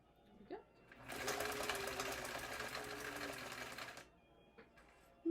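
A sewing machine stitching a minimalist half dollar wallet runs in one steady whirring burst of about three seconds, framed by faint handling noises before and after.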